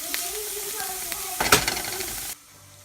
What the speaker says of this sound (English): Let's get our onions, and we're going to take a little while to fry them up here.